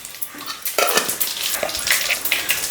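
A tempering of four dried red chillies, mustard seeds and cumin crackling in hot oil for a brinjal chutney, a close, busy sizzle with spitting pops and occasional scrapes of a spoon in the pan.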